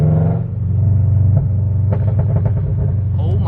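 A 2022 Subaru BRZ with a UEL header and burble tune rumbles at idle and low revs, its exhaust giving off a series of crackling burbles and small pops, fairly close, with some talk in the background.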